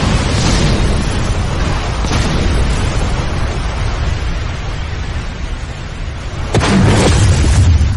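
An anime fire jutsu, Fire Style Majestic Flame, roars loudly as a sustained blast of flame. A fresh surge of booming rumble hits near the end.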